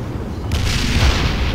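A vehicle blows up in the real-time strategy game World in Conflict: Soviet Assault, with a sudden heavy boom at about half a second giving way to a sustained roaring, rumbling blast that stays loud to the end.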